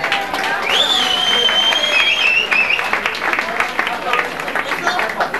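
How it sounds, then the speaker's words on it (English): Audience at a 1987 high school class twentieth reunion breaks into sustained, steady applause filling the room, with crowd murmur, a few cheers and a faint whistle-like tone riding over the clapping. "Let's give them a nice round of applause."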